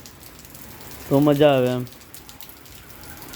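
Rain falls steadily in Chhara village, a soft, even hiss running throughout while someone speaks briefly in the middle.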